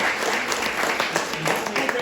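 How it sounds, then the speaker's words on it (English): A community meeting audience gives a short round of applause, a moderate steady patter of many hands with faint voices mixed in. "give both Tom and Kathy a big round of applause for this evening"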